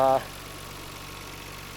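A 1995 Nissan Skyline R33 GT-R, a USA import, runs at a steady low idle with a continuous rumble, heard after a brief louder burst at the start and sitting moderately close.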